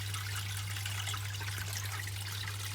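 Water dripping and trickling in a paludarium, a steady faint splash over a constant low mains hum, with no pauses.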